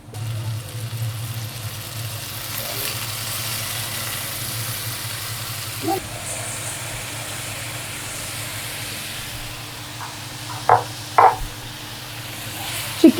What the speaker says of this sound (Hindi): चिकन को हल्का सा हाई फ्लेम पर सौटे कर लें।